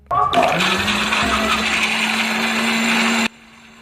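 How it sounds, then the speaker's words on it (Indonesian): An electric blender grinds shallots and garlic into a spice paste, starting abruptly with a loud, steady motor whir and grinding roar that holds for about three seconds before cutting off sharply. "Proses pertama, kita blender bumbunya dulu."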